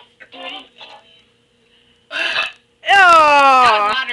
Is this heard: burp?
yes